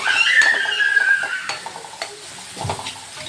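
Peas and carrots are stirred into sautéed onions in a pan for Maggi noodles, giving close scraping and clattering spoon strokes over a light sizzle, with no talking.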